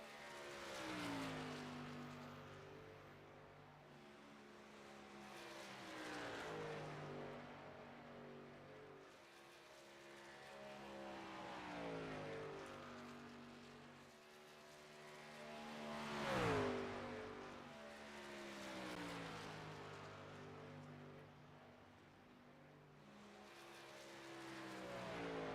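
A racing truck engine in iRacing's Outlaw Truck Series howls steadily at high revs, its pitch rising and dipping in long waves through gear changes and corners, loud and continuous with no voices.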